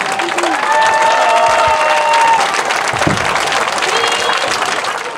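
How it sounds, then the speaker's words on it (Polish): Sustained crowd applause and cheering for musicians at a New Orleans-style parade, loud and steady throughout, with a few horn-like tones and voices mixed in. "Jeszcze raz wielkie brawa dla muzyków."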